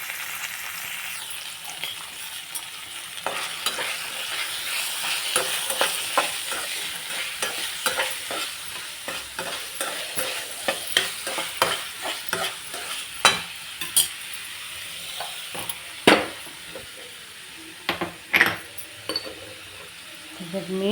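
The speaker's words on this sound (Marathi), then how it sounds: "गाजर, टमाटा, वाटाणा नंतरून टाकते, कांदा, हे फ्राय करून घेऊ चांगला आपण।" Carrot, tomato, peas and onion fry in a pan for veg pulao, a steady sizzle under frequent sharp scrapes and clinks of a stirring spoon that grow louder and more spaced toward the end.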